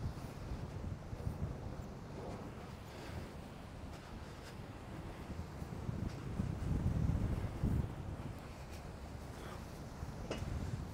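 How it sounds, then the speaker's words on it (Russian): Strong wind blowing along the Black Sea coast at Imeretinka near Sochi, a steady rough rush into the microphone with surging gusts and waves faintly beneath. "ветер прям усилился на глазах"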